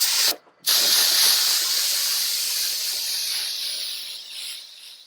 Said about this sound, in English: So just spraying this joint on here like so.